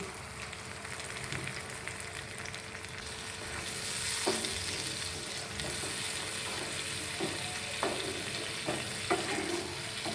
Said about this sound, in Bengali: আমি অল্প একটু গরম জল দিচ্ছি